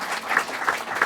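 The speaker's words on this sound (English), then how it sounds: "Give him a round of applause," Audience applause for a speaker at a panel Q&A event, a steady broadband patter of many hands clapping at a fairly close, even level, with a few louder individual claps punctuating the brief burst.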